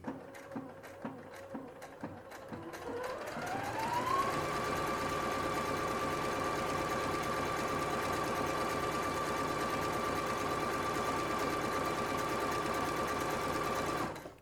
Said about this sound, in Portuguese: Aí você vem, faz a alteração da tensão e vem novamente e costura.